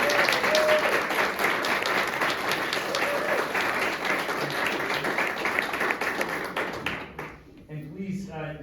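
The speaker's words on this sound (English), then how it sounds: "How about a big round of applause?" A crowd at a retirement party applauds in a loud, dense patter of clapping that carries on for several seconds, then thins and fades out as a voice begins speaking near the end.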